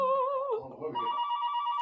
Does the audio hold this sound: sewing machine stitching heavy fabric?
no